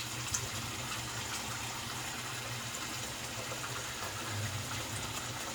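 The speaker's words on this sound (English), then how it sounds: "I'm going to rinse this off" Water runs steadily from a tap over a stainless steel safety razor as it is rinsed, a continuous close hiss and gush with no pauses or talk.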